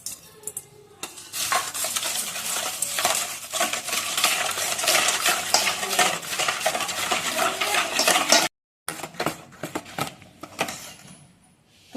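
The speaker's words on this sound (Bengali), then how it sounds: "চিনি আর ডিম একসাথে ফাটিয়ে নেবো। চিনিটাকে পুরো গুলিয়ে নেবো ডিমেতে।" Sugar being whisked into eggs in a bowl for fried snacks, a steady rapid clinking and scraping of a whisk against the bowl that keeps going, pauses briefly, then resumes more unevenly.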